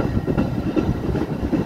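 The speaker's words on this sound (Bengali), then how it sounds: "ট্রেনটি ডিজেল চালিত" A diesel double-decker local train at Prospect Heights station in the U.S. rolls by close and loud, with a steady rumble and repeated clickety-clack wheel beats over the rails and no voices.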